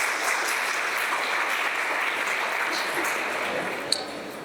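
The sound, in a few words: applause at school valedictory ceremony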